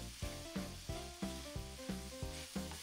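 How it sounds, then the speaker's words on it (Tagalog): Hot dogs sauté in a pan for Filipino-style spaghetti, with a steady close sizzle punctuated by regular stirring scrapes about every half second. "itinutuloy ko lang yung paggisa ng mga 1 minute"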